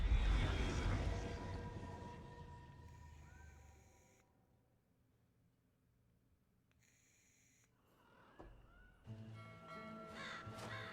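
Crows caw in the video game Dragon Age The Veilguard: loud, harsh calls at the start, a near-silent stretch, then more cawing and rustling near the end.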